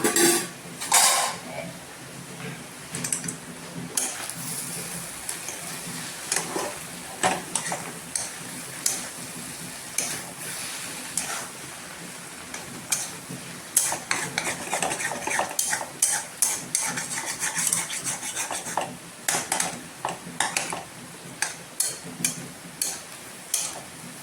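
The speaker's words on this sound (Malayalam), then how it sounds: "അത് കഴിഞ്ഞാൽ നമുക്ക് ഇത് മൂടി തുറന്ന് ഒന്ന് ഇളക്കി കൊടുക്കാം." Steel utensil clatters and scrapes against a pan as a lid comes off and egg thoran is stirred, a steady run of close metallic clinks and taps without talk.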